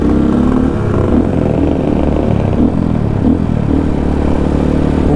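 A motorcycle on its stock exhaust idles and runs close by, a loud steady engine drone with a deep, bassy low end and slight rises in revs.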